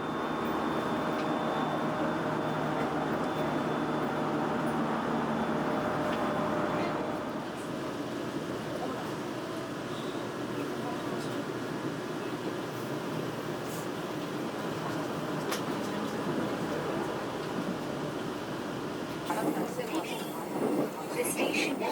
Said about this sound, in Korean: 열차는 동두천역을 넘어 계속 남쪽으로 달립니다.